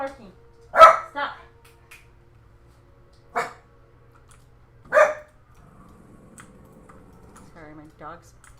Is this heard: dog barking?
yes